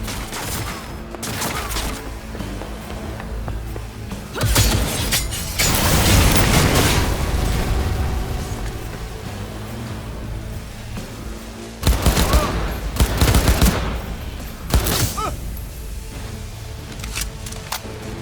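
Heavy bursts of gunfire from the Cyberpunk 2077 video game, loud booming volleys with mechanical clatter between them, arriving in several clusters across the stretch with no speech over them.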